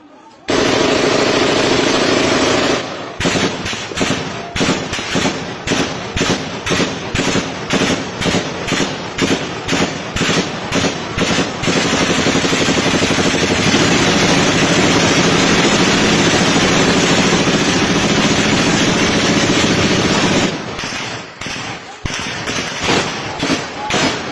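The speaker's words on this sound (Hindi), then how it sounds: "बड़ी गन्स भी चल रही हैं, छोटी गन्स भी चल रही हैं" Rapid bursts of gunfire from large and small guns, dense repeated cracks and thuds in quick volleys with a sustained roar between, loud and continuous, recorded at a scene of shooting.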